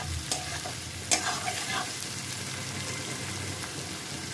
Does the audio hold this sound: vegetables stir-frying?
yes